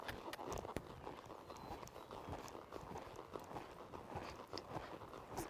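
Hooves of a horse jogging in a ranch riding arena thud softly and faintly in a loose repeating rhythm over a low background rumble.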